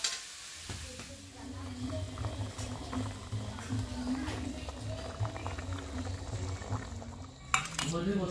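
A thin egg curry boiling in a pot on a home stove, giving a steady bubbling, simmering hiss with occasional utensil clinks and a sharp knock near the end, moderately close.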